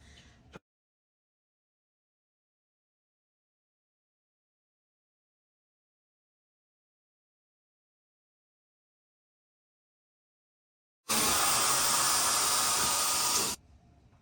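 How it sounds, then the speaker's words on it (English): A loud, steady blast of hissing air from a blow dryer roars for a few seconds, then cuts off abruptly, with silence before it. "This is literally the best blow dryer ever."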